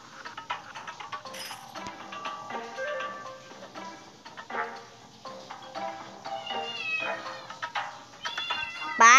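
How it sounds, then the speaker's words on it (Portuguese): A cat meows repeatedly in a home, high wavering cries rising over faint background noise and light clinking, growing louder and closer toward the end. "Para de miar!"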